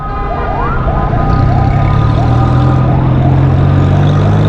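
A loud ambulance siren wails with repeated rising and falling tones, close by amid low engine rumble of idling traffic in a traffic jam on Shahrah-e-Faisal.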